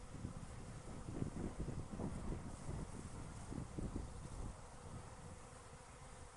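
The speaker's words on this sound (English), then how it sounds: "The bees that are in there, I don't know if you can see that or not, those are just worker bees" Worker honey bees buzz around a queen cage at a hive outdoors, a low droning hum with some wind noise, moderately close and fairly steady.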